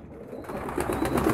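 Young homing pigeons for sale, cooing softly in a loft amid low ambient noise that grows slightly louder toward the end; no talking.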